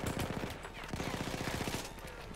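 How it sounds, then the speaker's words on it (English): A light machine gun in the WWI shooter Battlefield 1 rattles off a fast, steady burst of closely spaced shots, moderately quiet and sustained for a couple of seconds. "these kind of little machine guns, they are actually quite effective"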